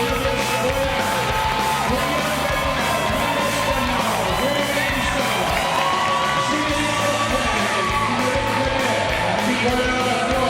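A crowd at a youth hockey all-star event honouring a novice team roars with continuous cheering, yells and children's shouts, loud and sustained throughout with no break.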